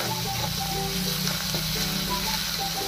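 Green chili and garlic thecha frying in oil in a pan, a dense continuous sizzle with faint spatters and light stirring noises, close and fairly loud.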